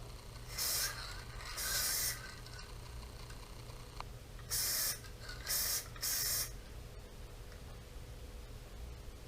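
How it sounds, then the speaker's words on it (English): Short hissing bursts from an aerosol can of silver paint sprayed on a Subaru Forester fender, five sprays of about half a second each, over a steady background hum. "I've got my silver can loaded here and going to be ready to spray."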